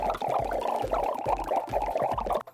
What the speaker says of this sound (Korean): 보글보글 소리가 나.